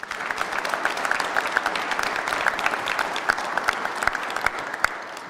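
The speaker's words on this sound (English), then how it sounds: "Can we give the speakers a round of applause" A round of applause for the speakers at a City of Columbus veterans employee appreciation event, with steady crowd clapping throughout and a few sharper individual claps standing out.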